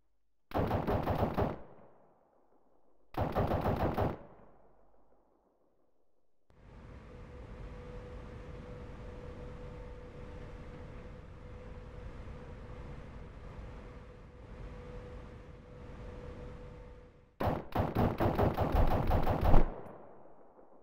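Heavy machine-gun fire aimed at a tank in the game Tank Trouble, arriving as three loud, separate bursts split by quiet gaps and a long stretch of low engine rumble.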